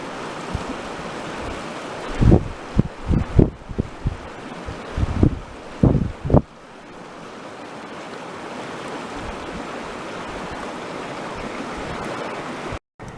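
A river rushes steadily close by beside a wooded burn-scar area, a broad continuous wash with wind buffeting the microphone and a few brief thumps early on.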